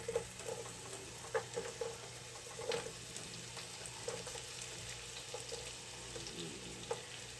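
Chopped Vidalia onion half rings sizzle in butter and olive oil, a steady soft frying hiss with faint scattered pops and stirring clicks, fairly quiet and close, no talking.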